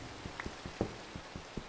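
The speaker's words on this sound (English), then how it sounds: "I really like this rain vibe right now in the Minecraft world." Soft rain in the Minecraft video game, a faint, steady patter with scattered individual drops ticking at irregular intervals, with no voices.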